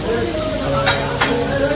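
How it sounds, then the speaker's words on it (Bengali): Hilsa fish frying in hot oil at a Mawa Ghat riverside eatery, a steady dense sizzle with two brief sharper spits, close and loud, with faint background voices. "এখন এই তেলে আমাদের ইলিশ মাছটা ভাজা হবে।"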